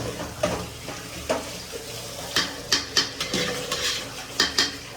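A spoon stirs biryani rice in a pot, with repeated scraping and clinking against the metal. The strokes come in irregular bursts over a constant low kitchen background, close and moderately loud.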